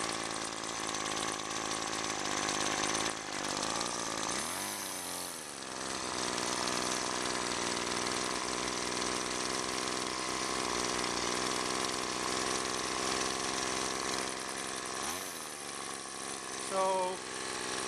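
A Weedeater Featherlite FL20 string trimmer's small two-stroke engine runs steadily at idle. It drones loud and buzzy, briefly revving up twice, with a voice talking over it.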